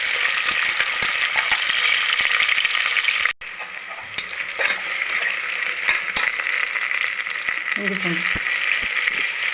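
Green chilies, curry leaves and onion hitting hot oil in a pan for mutton curry, a loud continuous sizzle that drops briefly, then resumes with stirring clatter, while a voice speaks over it.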